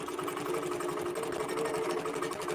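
A QBOT V3 robotic quilting machine stitches a row on a quilt with a steady, rapid mechanical whir and rhythmic needle chatter, continuous and close, with no talk.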